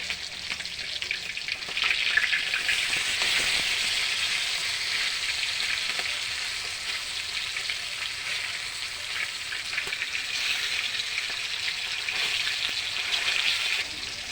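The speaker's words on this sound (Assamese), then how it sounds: "মাছখিনি এইবাৰ মই লৰাই দিম।" Fish frying in a pan makes a dense, continuous sizzle with bubbly crackling and occasional light stirring clatter, close and steady throughout with no voices.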